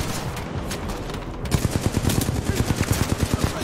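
Rapid gunfire from the Mozambique handgun in the shooter game Titanfall 2, a steady run of sharp, evenly spaced shots starting partway through and continuing loud and close over a dense background of game noise.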